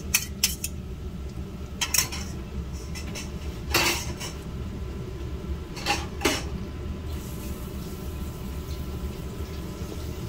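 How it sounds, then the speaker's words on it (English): Separated eggs being re-whisked in a bowl: a series of sharp metallic clinks and taps of the whisk against the bowl, sparse and irregular over a steady low hum, with no voices. "So we're gonna re-whisk we had a little separation of our eggs. We're gonna re-whisk them."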